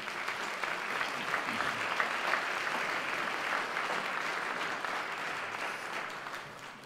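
Audience applause at a charismatic renewal gathering, a steady wash of many hands clapping that holds evenly for about seven seconds at moderate distance, with no speech over it.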